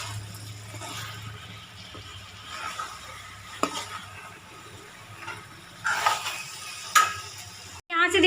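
Elephant foot yam frying in a spiced masala, a soft continuous sizzle with scraping stirs and clinks of a spoon against the pan, fairly quiet overall.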